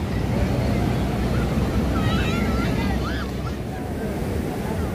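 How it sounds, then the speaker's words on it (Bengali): Sea waves surge on Puri beach in a loud, steady, continuous roar, with wind buffeting the microphone throughout and no voices. "ঢেউ দেখো, একেই বলে ঢেউ।"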